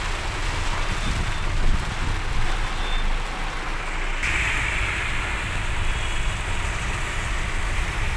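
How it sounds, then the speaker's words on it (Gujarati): A heavy downpour on a road in Ahmedabad, a constant broad roar of rain with a faint higher shift partway through, steady and unbroken, with no talking. "ધોધમાર વરસાદ અમદાવાદમાં."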